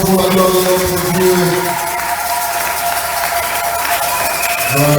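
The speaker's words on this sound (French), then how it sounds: "Acclamons votre effort pour la gloire de notre Dieu" A church congregation applauds during a Sunday service. Dense, sustained clapping with some crowd cheering carries steadily throughout, with voices mixed in toward the start and end.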